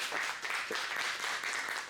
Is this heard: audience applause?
yes